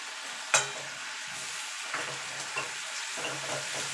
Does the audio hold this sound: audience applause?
no